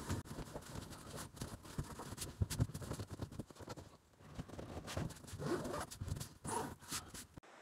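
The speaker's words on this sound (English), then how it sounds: "it's got a zipper that holds these two together after this gets mashed down in here" A zipper joining two sections of a Sleep Number mattress in an RV camper is drawn shut, giving a run of close, scratchy zipping bursts with brief pauses, ending in a quick final pull.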